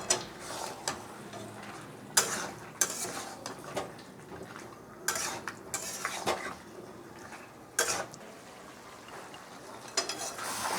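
Chicken and potatoes with salt and turmeric are stirred in a pan, a spatula scraping and knocking against metal in repeated bursts over a low background sizzle, close and moderately loud.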